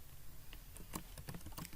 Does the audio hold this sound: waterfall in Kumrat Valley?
no